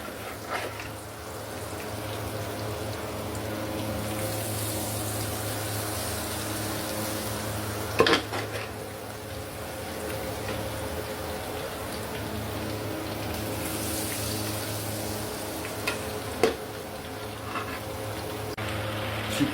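Chicken pieces for chilli chicken frying in hot oil, a steady bubbling sizzle over a low hum, with a couple of sharp clatters along the way.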